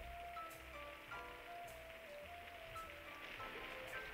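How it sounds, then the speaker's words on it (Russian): Steady rain patters softly on a surface, a faint continuous hiss with soft tonal notes drifting over it. "Дождь, слышишь?"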